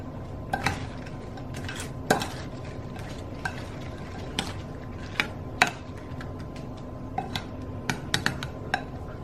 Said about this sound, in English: So all I'm going to do is toss the shrimp in this.